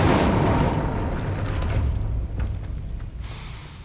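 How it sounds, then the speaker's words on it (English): The Incendio fire spell cast in the Hogwarts Legacy video game, a sudden loud whooshing burst that fades into a low rumbling crackle over a few seconds. "Incendio!"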